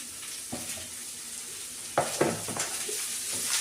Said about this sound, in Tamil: பீட்ரூட் பொரியல் செய்கிறாங்க மம்மி